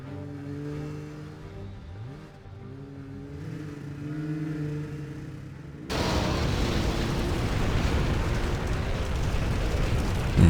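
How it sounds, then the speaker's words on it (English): A MOAB bomb blast in the game C&C Generals Zero Hour lands midway as a sudden loud roaring rumble that keeps going, following a stretch of engine drone and battle noise. "There's the Moab explosion."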